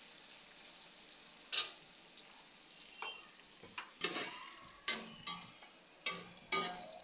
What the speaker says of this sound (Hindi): अब ये देखिए मिर्ची फ्राई अच्छे से हो गया, इस तरह से फ्राई कर लेना है।